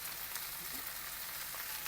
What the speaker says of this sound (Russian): Ее надо поджарить вместе с креветками